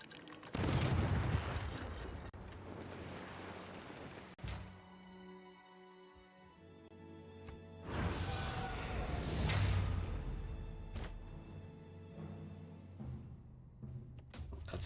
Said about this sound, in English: Crossbows versus cannon.